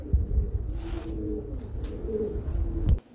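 At a pigeon market, pigeons give low, throaty coos close by, a few rolling calls over a murmuring background that ends in a brief thump.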